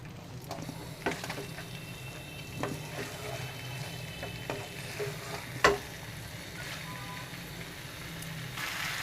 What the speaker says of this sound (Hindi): सारे को हम मिक्स कर देंगे